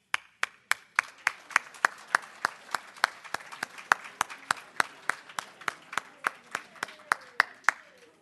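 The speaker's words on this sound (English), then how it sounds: "Give them a big round of applause once again." At an awards ceremony for centre managers, crisp, evenly spaced claps ring out in a steady rhythm, close and distinct, continuing for several seconds with no talk over them.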